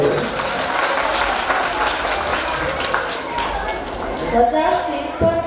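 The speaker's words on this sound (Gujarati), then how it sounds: "તો જોરદાર તાળીઓ પાડી દઈએ." A school audience claps loudly and steadily in welcome for the students' parents at an annual function, the dense applause running throughout with a voice talking over it.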